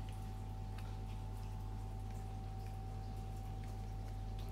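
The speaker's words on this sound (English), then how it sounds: "That noise you can hear in the background is my exhaust fan" An exhaust fan running in a room where resin is being clear-coated gives off a constant low hum with a steady tonal whine, faint and unchanging throughout, with no talk over it.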